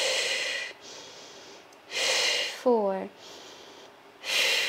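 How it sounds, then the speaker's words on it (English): Loud, rhythmic breaths during a Pilates workout, long airy exhales alternating with inhales in a steady cycle, broken by a brief counting voice. "Exhale and inhale, exhale and inhale."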